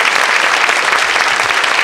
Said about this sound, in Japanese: セバンの、素晴らしいスピーチに拍手、それから辻さんの本当に素晴らしい通訳にも拍手をお願いします。